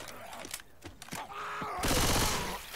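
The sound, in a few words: gunfire in Left 4 Dead 2 video game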